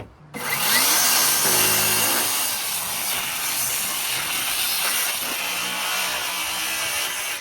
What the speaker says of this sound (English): then I'm going to use my saw blade. I'm going to cut on the opposite side.